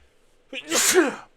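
A single close, loud sneeze bursts out abruptly after a short quiet gap, a sharp intake followed by a forceful explosive exhale.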